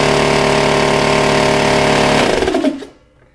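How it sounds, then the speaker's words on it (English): A large air compressor powered through a PowerBright PW2300 power inverter runs with a loud, steady mechanical drone, then winds down and cuts off near the end. "I'm going to start and operate a large air compressor."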